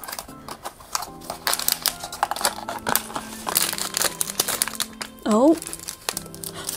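Plastic blind box packaging is crinkled and torn open close up, with sharp rustling bursts and scratches while a person speaks and exclaims over it.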